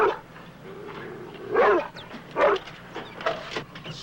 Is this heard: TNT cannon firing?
no